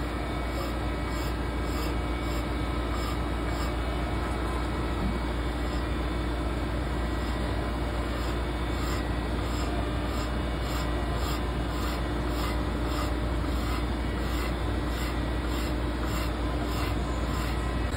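Continuous rasping and rubbing of a hand tool working a wooden flintlock rifle stock from a Woodsrunner kit, a steady scraping texture that runs on with no pauses or talk, under a constant background hum.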